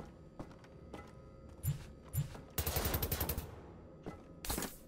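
Enemy machine gun fire in Wolfenstein: The New Order: scattered single shots, then a loud sustained burst of rapid automatic rounds in the middle and a final short burst, with quieter game ambience between.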